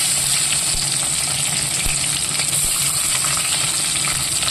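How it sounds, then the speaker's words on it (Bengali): Whole garam masala, bay leaf, tomato and onion fry in hot oil, giving a loud, continuous close sizzle with occasional stirring knocks and no voices. "তেলের মধ্যে দিয়ে দিচ্ছি গোটা গরম মশলা, তেজপাতা, আর এদিকে দিয়ে দিচ্ছি টমেটো আর পেঁয়াজ।"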